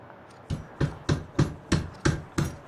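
Seven evenly spaced hammer blows ring out in a steady rhythm, close and solid, each with a short decaying tail, in the video game No One Lives Under The Lighthouse.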